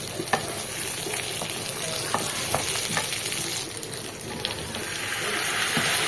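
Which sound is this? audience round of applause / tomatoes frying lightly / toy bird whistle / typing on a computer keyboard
tomatoes frying lightly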